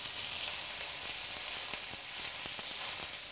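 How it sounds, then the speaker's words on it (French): Beef steaks sear in a very hot wok with olive oil, giving a steady, close, dense sizzle throughout, with a few soft clicks of meat being turned and no talking. "Dans un wok très chaud, avec un filet d'huile d'olive, faire colorer l'ensemble des pavés de bœuf sur toutes les faces"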